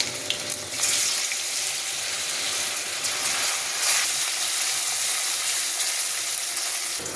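Chicken drops into a hot pan of oil with ginger and garlic for Anglo-Indian chicken chow chow, giving a loud, close, steady sizzle and crackle of frying that goes on without pause.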